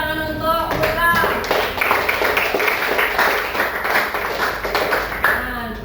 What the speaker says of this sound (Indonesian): beri tepuk tangan untuk Putra.